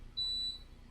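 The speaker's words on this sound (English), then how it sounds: "sorry about the beeping noise" An air conditioner in a streamer's room gives one thin, high electronic beep lasting a fraction of a second, faint and alone against quiet background hiss.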